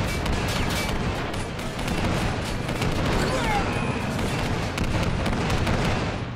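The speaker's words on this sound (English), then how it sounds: "And now all three of those guns are just opening up, look." Dense gunfire from several guns opening up at once in the video game Men of War, a continuous loud rattle of shots and booms across the whole stretch.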